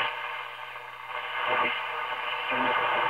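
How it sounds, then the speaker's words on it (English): A 1932 Tiffany Tone Model 5 radio tuned to a distant station gives steady hiss and static with faint, wavering music or voices drifting beneath, holding at a moderate level throughout. "That's some distant station."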